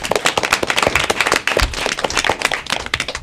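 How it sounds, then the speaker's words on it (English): Scattered clapping from an audience at an elementary school academic quiz competition, brisk uneven claps close by with a sharp crackly texture, no talking over it. "I like to have a big round of applause for yourself for a job well done."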